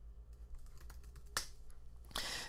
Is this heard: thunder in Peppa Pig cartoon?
no